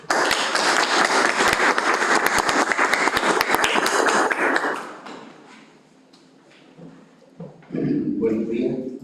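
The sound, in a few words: audience applause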